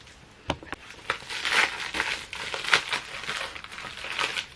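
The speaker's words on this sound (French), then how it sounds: "Ensuite, j'ai quelque chose, mais dans un truc papier bulle." A small package wrapped in bubble wrap is pulled open up close, giving crinkly plastic rustling and crumpling with a few sharp crackles and tearing bursts, irregular and fairly quiet.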